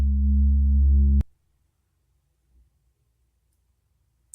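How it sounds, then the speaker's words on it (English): A deep, steady humming drone from a paranormal sound-effect pack, like breath blown across the top of a soda bottle, sounds loud and low for about a second, then cuts off abruptly into near silence. "it's like blowing on the top of a soda bottle, like, and you get that deep humming kind of sound"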